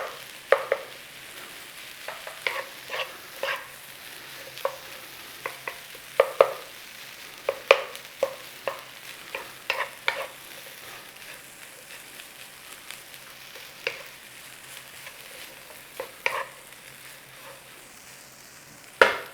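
Yang Chow fried rice with pork, egg and peas stir-fried in a hot pan, a constant sizzle broken by frequent sharp scrapes and clacks of the spatula, close and unhurried.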